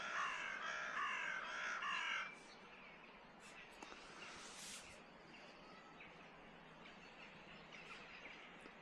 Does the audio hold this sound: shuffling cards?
no